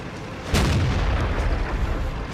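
A tank gun in the World of Tanks video game fires once, a sudden loud boom that then rolls into a long, sustained rumbling decay, with no talking.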